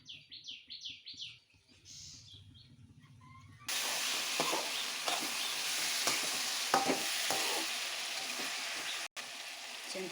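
A pot of tamarind pulusu with oil, salt and chili powder cooks on a stove. Birds chirp at first, then a loud steady sizzle takes over, with scattered scraping knocks as it is stirred.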